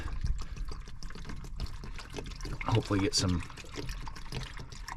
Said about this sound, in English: I'm just gonna fill it with gallons of water here that I've got.